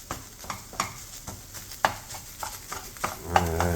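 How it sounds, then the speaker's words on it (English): Food in a pan over a raised flame, giving a soft, low-level sizzle broken by repeated scraping and stirring clicks, close by and without talk. "I'm turning up my fire so I get some little sizzle dizzle going on."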